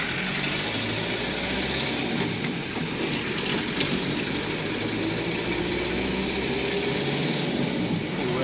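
A motorcycle engine runs steadily as the bike pulls away on a cold morning, a continuous close rumble with slight shifts in pitch and no speech.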